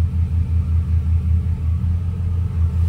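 A 2006 Chevy Silverado's 5.3L V8 idles steadily in a low, even rumble with a faint rhythmic pulse, close by and with no other sounds.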